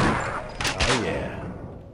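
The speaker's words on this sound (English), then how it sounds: "Firing both barrels." A heavy double-barrel shotgun blast in Half-Life, one loud booming discharge with a brief crack followed by a fading rumble and echo.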